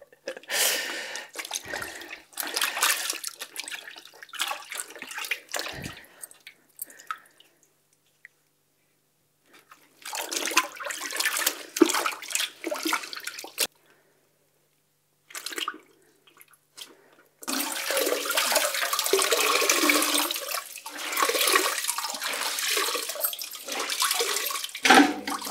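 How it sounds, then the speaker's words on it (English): Running water rinses a textile painted with natural plant dyes, splashing and gushing in bursts with silent pauses between, closing with a longer, stronger flow. "Rinse this a bit longer"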